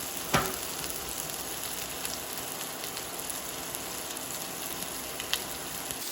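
Miso-coated shrimp sizzle on a grill with a steady, even crackling hiss that continues throughout, broken by a sharp tap near the start and another faint one near the end.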